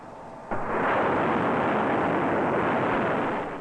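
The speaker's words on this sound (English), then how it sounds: "This controlled explosion is sustained evenly by constant propellant flow rates." A Saturn rocket engine firing with controlled propellant combustion, a sudden onset into a sustained, loud, broad roar that holds steady for several seconds before easing slightly, with no voices.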